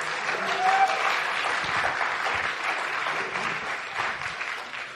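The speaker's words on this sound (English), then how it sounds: "Let's clap for the TAs." A lecture class claps for the teaching assistants, a sustained indoor round of applause from many hands with a few faint cheers, fairly close and even throughout.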